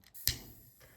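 A lighter is flicked to burn the end of crochet yarn: a single sharp click and spark burst, followed by a soft, faint hiss of flame, close by and with no talking.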